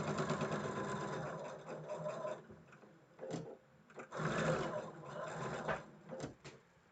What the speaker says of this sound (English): I just want to sew the two white blocks together